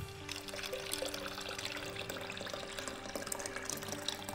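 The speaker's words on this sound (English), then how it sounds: "Can you pour that in for me, Zein?" Coconut water is poured into a blender for a smoothie, a soft, steady splashing trickle heard close and faint for a few seconds, with no one talking.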